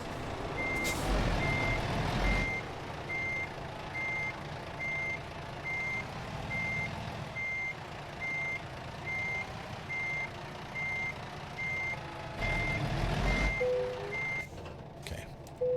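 A heavy-haul semi-truck in American Truck Simulator reverses while emitting evenly spaced electronic reversing beeps, steady and continuous over a low engine rumble, with an air-brake hiss near the end.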